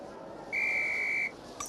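A single steady whistle blast in the flying class of the Harry Potter and the Philosopher's Stone PS1 video game, held clear and loud for under a second, followed by a brief faint chime.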